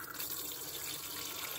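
Water streams steadily from a van sink faucet fed by a portable shower pump into a bowl with a drain, a constant close hiss and patter with no talk.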